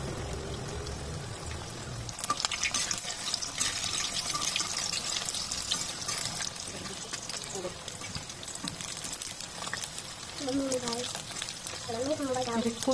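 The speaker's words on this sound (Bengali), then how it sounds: "তৈরি করে রাখা কাবাব দিয়ে আস্তে আস্তে দিয়ে ভালো করে ভেজে নিব।" Pangas fish kebabs fry slowly in oil in a pan at a village kitchen, giving a soft, steady sizzle and crackle at low volume while a person talks over it.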